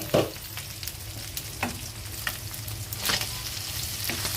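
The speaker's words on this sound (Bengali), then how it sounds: "তখন ভালো করে ভেজে তারপর আমি নামিয়ে ফেলবো" Cow tripe frying in a pan, a steady sizzle broken by several scraping stirs of a utensil, close and moderately loud, with no talk.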